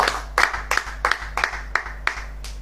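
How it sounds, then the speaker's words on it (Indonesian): A church congregation clapping in unison during a sermon, about eight sharp rhythmic claps at an even steady beat over a low electrical hum. "Tepuk tangan dulu buat Tuhan kita yang baik."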